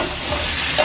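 Raw jackfruit pieces, rubbed with salt and turmeric, sizzle and fry in oil in a pan, a steady close crackle with light stirring throughout.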